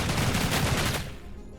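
Rapid automatic fire from a gun in the VR shooter Opposer VR, a dense, loud stream of shots for about a second that then cuts off, leaving a fading tail.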